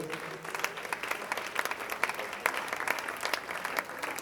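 A festival audience applauds performing groups, a steady patter of many hands clapping at moderate volume throughout, with faint crowd murmur.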